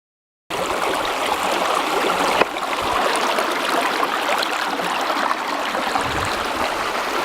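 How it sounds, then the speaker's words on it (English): The Encampment River flowing beside the Superior Hiking Trail in autumn, a steady, loud rushing and burbling of water that starts after a brief silence and continues evenly, close by, with no voices. "Here is the encampment river."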